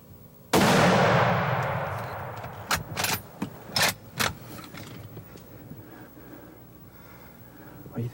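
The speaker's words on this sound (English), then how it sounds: "I'm gonna have to shoot it." Rifle shot fired at an 8- to 10-point buck while deer hunting in Michigan, a single loud close blast with a long decaying echo, followed by several sharp metallic clicks and clunks of the gun being handled.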